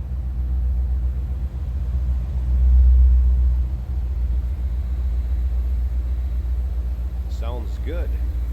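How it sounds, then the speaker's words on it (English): A 1984 Chevrolet Corvette convertible idling with a deep, throaty exhaust rumble, steady and close, swelling briefly as the engine is blipped, with a short spoken remark near the end. "Nice deep throaty exhaust note. That's a rumble."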